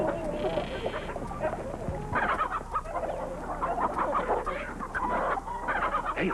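Several chickens cluck and squawk close by, with busy overlapping calls and a few louder bursts that come and go.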